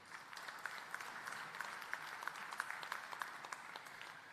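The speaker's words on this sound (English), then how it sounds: "So I think that requires a bit of an applause." Applause from the audience at a university graduation ceremony, a moderately faint, steady patter of many hands clapping, heard from a distance in a large hall, with a few sharper individual claps.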